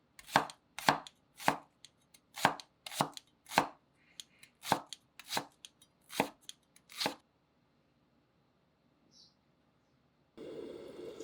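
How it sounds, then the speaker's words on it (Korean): A knife slices a Korean green onion diagonally on a cutting board in about a dozen crisp, close taps at a brisk, slightly uneven rhythm, then stops, followed by a short burst of other kitchen noise. "대파는 어슷썰기."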